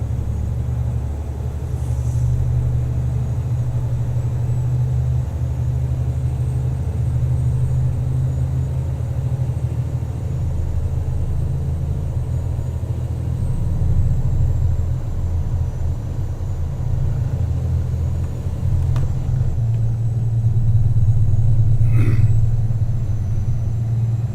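Steady low engine rumble from a car cruising in fourth gear at 45 mph, a continuous droning hum with constant road noise and no talking throughout.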